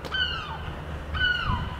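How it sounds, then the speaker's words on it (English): Two loud, close squawks from seagulls, each a descending cry, separated by about a second, heard over faint background noise with no speech. "these seagulls just decided to squawk like at the worst times"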